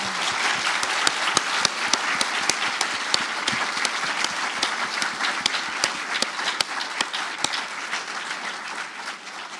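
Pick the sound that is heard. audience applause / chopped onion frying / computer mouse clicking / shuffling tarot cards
audience applause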